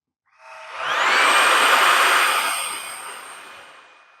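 Riccar R65 cordless stick vacuum switching on and running briefly, a whooshing whine that swells within half a second, holds steady with a high motor tone, then fades as it shuts off.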